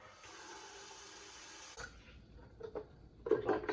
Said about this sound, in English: We're going to put just enough water in there to cover the top of the eggs.